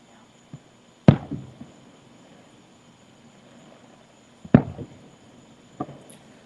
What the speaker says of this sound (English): These fireworks are beautiful.